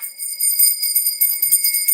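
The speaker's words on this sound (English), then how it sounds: "Where's my little bell?" A small hand bell rings in quick repeated shakes, bright high tinkling pulses close by, steady for two seconds with nothing else heard.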